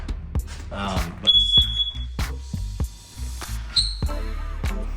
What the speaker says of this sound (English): Little alarm there.